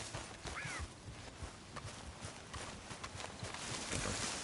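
Horse hooves clip-clop in a steady walking rhythm near a deserted camp in the video game Destiny 2, fairly close and continuous, with light ambient noise around them.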